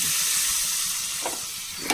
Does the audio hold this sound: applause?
no